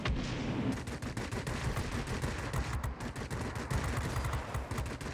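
Nose-mounted guns of a Tier VIII fighter plane in World of Warplanes firing a continuous rapid stream of shots, steady and fairly loud throughout with no talk.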